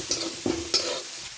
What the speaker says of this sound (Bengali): ভালো করে মিশিয়ে নিচ্ছি।